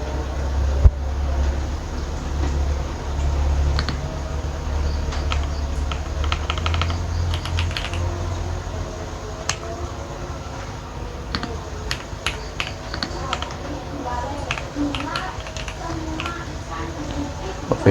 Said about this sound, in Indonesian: lalu kita ketikkan select